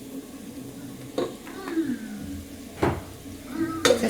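Curry powder and paprika stirred into masala fries, a soft background sizzle broken by several sharp utensil scrapes and clinks against the pan, quiet and close.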